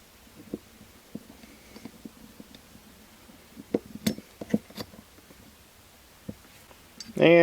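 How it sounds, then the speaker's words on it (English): Cam pin slid into an M16 bolt carrier group: soft close metallic clicks and light clinks, a small cluster of taps in the middle of the clip, with people talking quietly and a louder burst at the very end. "Go ahead and put in our cam pin."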